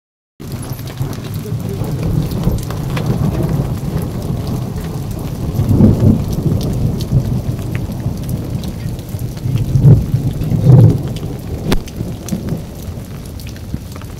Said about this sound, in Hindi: लेकिन ये बारिश ज़्यादा देर तक नहीं है